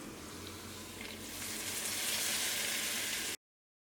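A tempering is poured into a roasted-coconut Kerala chicken curry (varutharacha kozhi curry) and sizzles, starting as a soft crackle and swelling into a loud, steady hiss before cutting off abruptly.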